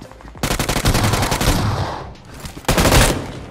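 Loud bursts of rapid automatic gunfire in BGMI PUBG Mobile, a long rattling volley followed by a pause and a second short burst, close and harsh.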